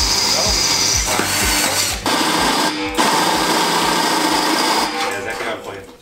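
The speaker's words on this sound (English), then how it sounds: "so hopefully if you drill a hole that big, it'll slide straight through" A power drill bores a large hole for a copper pipe during a hot tub build, its motor whirring steadily and loudly with brief dips in speed while people talk over it.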